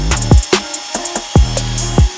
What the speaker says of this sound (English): Here is the fuel brushless drill, a half-inch drill, pretty self-explanatory.